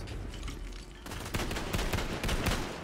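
Bursts of rapid gunfire from the Tiny Tina's Wonderlands video game, dense and continuous over nearly three seconds, with the shots getting louder and sharper partway through and going on without any voices.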